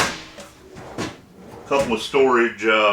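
Drawers sliding open and shut inside a Timberwolf 39DL destination travel trailer, a few soft thumps and slides heard under someone talking.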